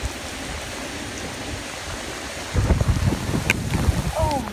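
Hurricane-force wind blowing hard during a hurricane in Puerto Rico, a loud continuous roar that surges and buffets the microphone in its second half, with a voice briefly heard.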